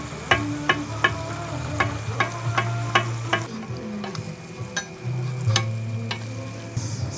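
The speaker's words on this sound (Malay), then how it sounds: "Ni grill chicken. Ni pun sama, kita tekan dia bagi dia masak." Grilled chicken pressed down on a hot griddle, sizzling steadily with repeated sharp scraping and tapping clicks from the press or spatula, close and fairly loud.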